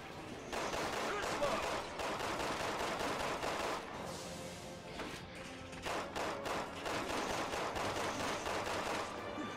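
Gunshots in Resident Evil 6, rapid bursts and repeated single shots cracking in clusters across the whole stretch, with a short lull near the middle, and no talking.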